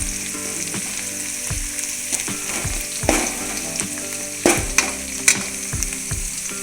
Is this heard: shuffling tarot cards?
no